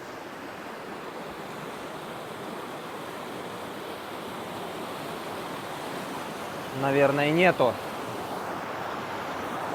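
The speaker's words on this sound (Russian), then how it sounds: "Я надеюсь, шум от водопада не перебивает мой голос" Steady broadband rush of a waterfall fills the whole stretch, a constant roar near the listener, with a short spoken phrase breaking in toward the end.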